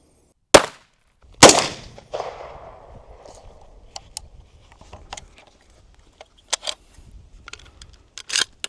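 Two sharp, loud 7.62 FMJ rifle shots fired close by into a bag of corn during a farm ballistic test. A spray of small rattling debris and patter follows the second report and dies away.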